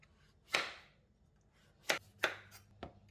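A knife chops through pumpkin on a cutting board, dicing it into small cubes: four sharp, separate strokes spaced unevenly, close and fairly loud against a quiet room, with no voices.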